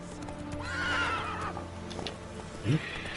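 Roach the horse in The Witcher 3 neighs loudly, with clip-clop hoofbeats underneath and a short snort or whinny near the end, close and clear.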